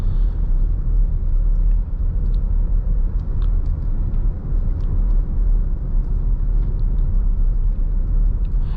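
Steady low road rumble and tire noise inside a 2020 Jeep Grand Cherokee Upland cruising along the road, a continuous even drone with no speech.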